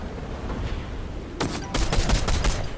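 Pistol gunfire in Fortnite: a rapid burst of several sharp shots cracking in quick succession after a second of low background rumble, fairly close and loud.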